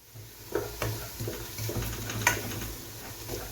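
Thinly sliced green onion sautéing in butter in a pan, a soft steady sizzle with light scraping and clinks of stirring, faint and close.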